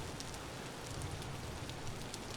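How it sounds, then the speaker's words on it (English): Steady rain pours in the Vintage Story video game, a dense, even hiss that holds at a constant level for the whole stretch with no voices over it. "it's always raining over here"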